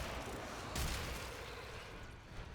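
Gunfire in the Warframe video game: a faint, muffled burst of shots with one heavier boom, set against dull, continuous background noise.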